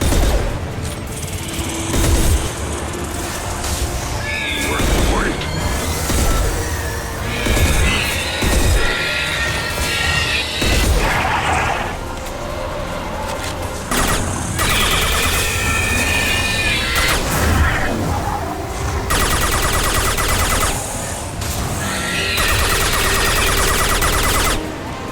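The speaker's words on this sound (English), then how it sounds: "Firing a high-impact shot." Mass Effect 2 combat gunfire, loud sustained volleys of shots and bursts with booms and crashes, dense and nearly continuous across the fight with brief lulls.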